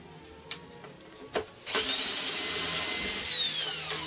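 A power screwdriver backs a screw out of a Pedal Jeanie pedalboard case, with a few small clicks and handling taps before a steady, close whirring run that holds for a couple of seconds.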